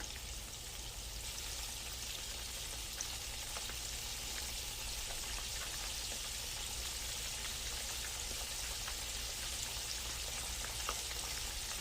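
Mustard-coated chicken legs fry in hot oil with a steady, dense crackling sizzle that carries on unbroken and evenly loud, with no voices.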